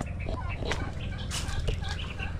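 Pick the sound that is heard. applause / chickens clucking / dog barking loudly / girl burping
chickens clucking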